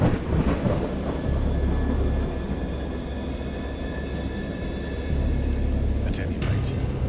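Rolling thunder rumbles through a wild storm at sea, a steady low roar that swells again toward the end, with a few faint higher crackles on top.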